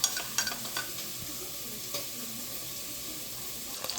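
Pork and shrimp with pechay stirred in a frying pan, with a few bright spatula scrapes and clinks over a low, steady sizzle.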